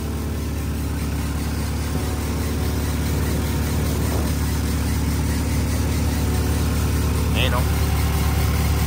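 A 1999 Honda Civic SiR engine idles with a worn, squeaky alternator bearing, a steady close drone running throughout while a person talks over it.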